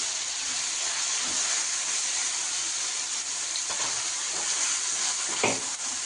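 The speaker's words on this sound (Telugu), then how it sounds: "ఈ టమాటా కూడా బాగా వేగి ఆయిల్ తేలేదాకా వేయించుకోవాలండి" Steady, dense sizzling of tomatoes frying in hot oil for egg masala curry, with occasional soft pops and stirring scrapes, fairly close and continuous throughout.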